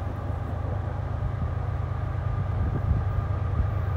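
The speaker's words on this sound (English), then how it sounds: "So here comes the train." A steady, heavy low rumble of a fast autorack freight train rolling past in Trenton, Ohio, with a locomotive pushing at the rear, continuous and fairly loud throughout with no voices.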